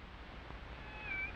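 A single cat meows in a quiet indoor room, one short thin call rising near the end over a faint steady background hum.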